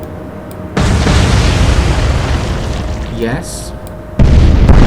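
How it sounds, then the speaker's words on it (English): Torpedo hits exploding against ships in the naval war game Atlantic Fleet: a loud, sustained booming rumble that swells again near the end, with someone briefly speaking over it. "Here come the torpedoes."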